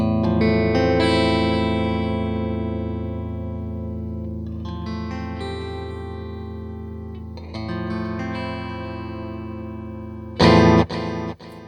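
Electric guitar run through a Boss TAE Core effects setup with nothing inside the amp, heard alone as sustained distorted, chorused notes with echo and reverb trails, then a louder burst of strummed chords near the end.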